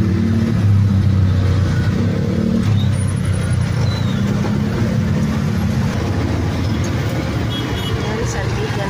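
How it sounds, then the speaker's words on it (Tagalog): Busy road traffic with cars and buses passes close by, a loud continuous engine rumble with idling and revving swells, and people talking over it. "Medyo matraffic na siya."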